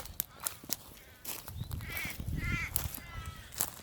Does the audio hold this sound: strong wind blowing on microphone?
no